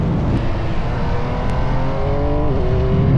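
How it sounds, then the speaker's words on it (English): MV Agusta F3 motorcycle engine revs hard, a loud, continuous close-up induction roar with harmonics that climb steadily as the throttle opens, no voices over it. "A very prominent induction noise arrives every time you crack the throttle that eggs you on"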